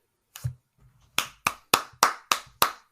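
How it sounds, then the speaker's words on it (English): Slow clapping from one person during a talk about the 1963 film Charade: a short soft pair of claps, then six sharp, evenly spaced claps about a third of a second apart, close and loud. "I was about to slow clap myself, so I'm glad that you did it"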